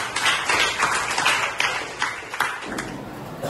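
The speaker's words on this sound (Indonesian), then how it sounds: "Tepuk tangan dulu" A classroom of students clapping their hands together in applause for a classmate during an Islamic religious education lesson, a dense burst of many claps that thins and fades toward the end.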